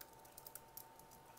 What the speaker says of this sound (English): I should have my keyboard hooked up, so it makes it a little easier to type